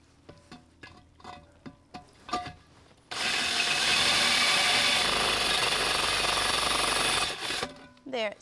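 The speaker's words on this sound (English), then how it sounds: "and just finish drilling that hole." A power drill bores through a hole from the reverse side while building a meditation fountain: a loud, steady grinding whir runs for about four seconds, then stops, after a few quieter knocks and handling sounds.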